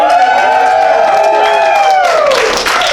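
An audience at an improv comedy show cheers and whoops loudly and close up, a dense wall of voices rising and falling for a few seconds.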